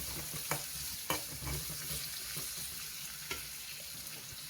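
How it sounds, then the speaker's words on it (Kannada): Potatoes frying in a pan with turmeric and salt give a constant close sizzle, broken by a few soft scrapes and taps of a stirring spoon. "ಫ್ರೈ ಮಾಡ್ತಾ ಹೋಗಬೇಕು ಎಲ್ಲ ನಿಧಾನವಾಗಿ."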